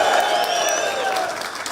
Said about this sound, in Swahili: Wapi shangwe na vigelegele kwa mheshimiwa wetu.